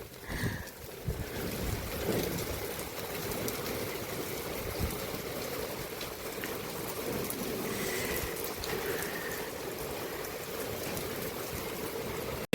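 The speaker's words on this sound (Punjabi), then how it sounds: "ਦੇਖੋ ਜੀ ਮੋਟੀ ਮੋਟੀ ਕਣੀ ਦਾ ਮੀਂਹ ਪੈ ਰਿਹਾ ਹੈਗਾ" Heavy rain with big drops falls outdoors in a village during a storm with wind, a steady loud wash of rain noise with wind rumble buffeting the microphone throughout.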